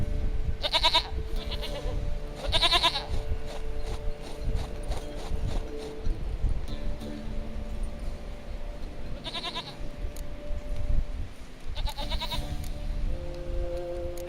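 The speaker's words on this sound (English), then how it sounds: "Goat of mine, dearest, sweetest goat." A goat in The Witcher 3 bleats in loud, wavering cries, four of them spaced a few seconds apart, over hoof clops and outdoor game ambience, with no talking.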